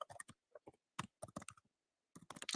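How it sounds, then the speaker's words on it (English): Quiet, close keyboard typing in uneven bursts of rapid clicks separated by short pauses. "I can hear him typing."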